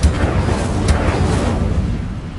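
A roaring whoosh of flame from the Incendio fire spell in a video game, a loud, continuous rumbling burst that holds steady for a couple of seconds.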